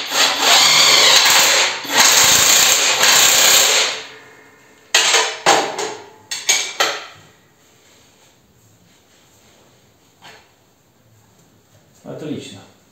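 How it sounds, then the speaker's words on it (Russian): An impact wrench tensions engine belts, rattling loudly in two long bursts and then several shorter ones, followed by quieter knocks and handling sounds. "Ну, натягивать буду гайковертом."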